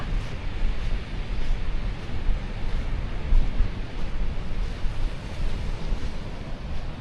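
Ocean waves wash steadily at the seashore with a constant broadband roar, mixed with wind buffeting the microphone, loud and continuous with no voices.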